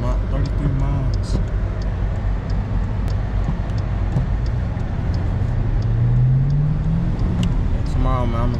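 A Jeep Trackhawk engine idles and runs with a steady low drone, and a brief rising whine swells partway through, under ongoing conversation inside the vehicle.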